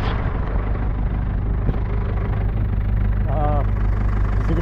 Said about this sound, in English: Is that tractor stopping?